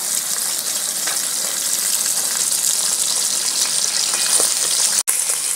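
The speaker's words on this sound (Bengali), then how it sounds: "এই তিনটে মাছ দিয়ে ভেজে নেবো বন্ধুরা।" Three halua fish frying in hot oil in a home kitchen give a steady, loud, close sizzle with a faint crackle throughout and one sharp click near the end.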